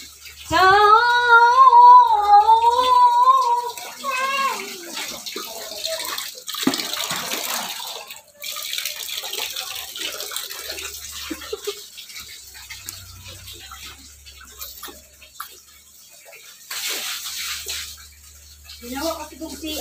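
Tap water running during bathroom cleaning, a continuous splashing flow under a woman's speech, with the rush thinning to scattered drips and trickles partway through.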